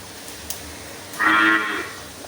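A cow moos once on a Kerala dairy farm, a single close, fairly loud low bellow lasting about a second in an otherwise quiet setting.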